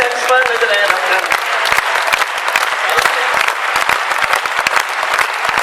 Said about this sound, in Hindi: अनु सपन जी आप भी तालियां बजाओ